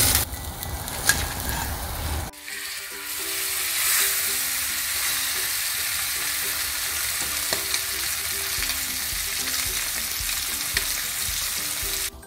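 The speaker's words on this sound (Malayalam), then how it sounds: "എന്നിട്ട് ബാക്കിയുള്ള മീനും കൂടി നമുക്ക് പൊരിച്ചെടുക്കാം." Fish frying in hot oil in a pan, a loud steady crackling sizzle after an initial clatter, continuing without talk.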